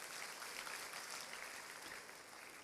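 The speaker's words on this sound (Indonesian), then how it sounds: "Tepuk tangan sama Tuhan Yesus." A church congregation claps together during an evangelist's sermon, a dense, even patter of applause that sounds distant and fairly soft, holding steady throughout.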